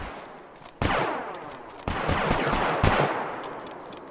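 Gunfire in the DayZ video game: three sharp shots crack out about a second apart, each followed by a long echoing tail, fairly loud against a low background.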